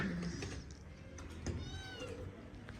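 Indoors in a cluttered room, a cat gives a few quiet, drawn-out meows against low background noise.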